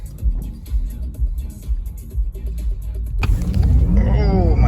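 A 2021 Porsche Taycan Turbo S electric car drives with a low road rumble, then accelerates hard, bringing in a rising, sweeping electric motor whine that grows louder inside the cabin.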